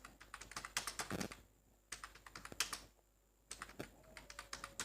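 Fast typing on a computer keyboard, bursts of close, crisp keystrokes broken by two short pauses, quiet overall with no one speaking.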